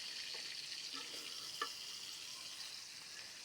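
Pointed gourd pieces fry in hot oil with a faint, steady high sizzle and a few soft stirring clicks, close by and alone without talk.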